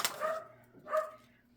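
Dogs barking as thunder begins, two distinct barks about a second apart at moderate distance, with quiet background between them.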